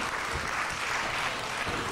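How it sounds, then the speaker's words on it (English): Wrestling fans applauding in an arena in Garfield, a dense, even roar of many hands clapping from a distance, steady for the whole stretch with no clear speech. "Nice show of applause from these fans here in Garfield"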